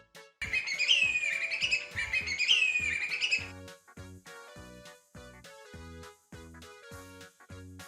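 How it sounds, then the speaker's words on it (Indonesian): A hawk gives two repeated high, piercing screeching calls in quick succession, loud and near, then a plucked musical tune continues alone. "hawk"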